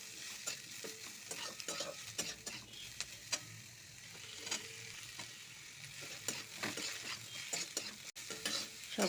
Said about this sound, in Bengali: কাঁচা লঙ্কা কুচিটা, পেঁয়াজ কুচি, একটু নাড়াচাড়া করে নিই